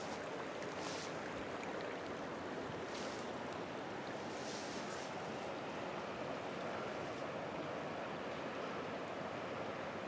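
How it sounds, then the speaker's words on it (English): Steady broadband rush of a flowing river seen from the opposite bank in a pine-wooded setting, continuous and fairly loud with wind buffeting the microphone and no talk. "here's the river again, from the other side."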